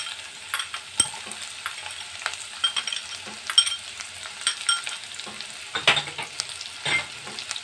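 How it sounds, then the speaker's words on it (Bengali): Chopped onion sizzles in a pan for paneer manchurian alongside garlic and ginger, a close, crackling fry with frequent scraping strokes and clicks from a stirring spoon, no talking. "এবার এটাতে আমি দিয়ে দেব কুচি করে কাটা পেঁয়াজ"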